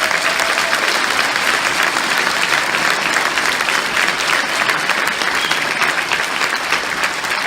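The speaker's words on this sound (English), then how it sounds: "I just want you to give yourselves here and in the overflow room an applause as a healthcare worker" A healthcare workers' rally crowd applauds, a dense, steady roar of clapping hands that fills the room loudly and evenly from start to finish, with no voices standing out.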